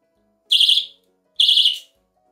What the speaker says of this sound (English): this is actually a rape alarm